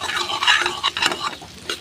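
Pointed gourd and potato pieces frying gently over a low flame, with a soft continuous sizzle broken by close scraping and stirring clatters from a utensil against the pan.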